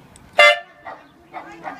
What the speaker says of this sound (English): that's the air horn that you press it with the remote control